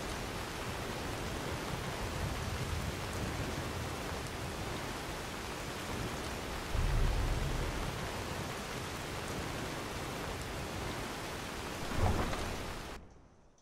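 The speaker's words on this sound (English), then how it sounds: "I wonder if we should get some shelter. Wait out this rain." A rainstorm in the video game Skyrim, with steady heavy rain hissing throughout and two deep rumbles of thunder rolling in midway and near the end before it cuts off, with no talking.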